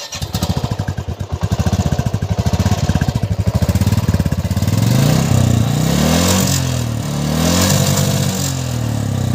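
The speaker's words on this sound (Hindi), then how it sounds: "चलिए अब आपको सुनाते हैं इसका एग्जॉस्ट नोट।" A 2017 Royal Enfield Classic 350 BS4 motorcycle runs with no one talking, its exhaust thumping loud and steady at idle before the engine rises into repeated revs.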